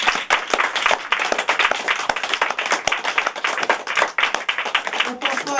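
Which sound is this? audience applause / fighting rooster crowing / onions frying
audience applause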